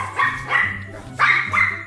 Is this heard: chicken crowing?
no